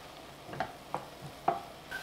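Onions and garlic cook in a pan without oil, making a faint, soft sizzle broken by a few light taps and scrapes of a utensil.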